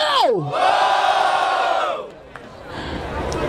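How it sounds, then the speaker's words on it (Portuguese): Crowd at a freestyle rap battle roars and cheers loudly, a sustained chorus of shouts that fades after two seconds into a quieter murmur, with a voice sweeping down at the start. "Barulho para as rimas do Samurai"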